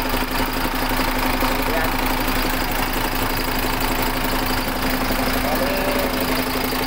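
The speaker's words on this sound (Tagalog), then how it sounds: "napandar natin yung makina yan" A freshly overhauled MAN diesel engine with a newly fitted air cleaner and turbo runs close by at a steady, even idle with a strong hum, while someone speaks briefly over it.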